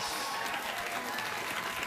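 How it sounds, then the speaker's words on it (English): A late-night talk show studio audience claps steadily, a dense, loud, continuous wash of applause with no break. "We better keep clapping until the warm-up comedian tells us it's time to quit."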